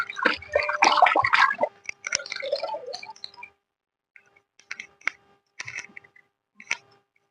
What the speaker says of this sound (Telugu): కొత్తిమీర కూడా కడుగుతున్నానండి